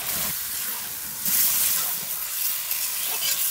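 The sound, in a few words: frying and stirring spice paste with turmeric, chili, ginger-garlic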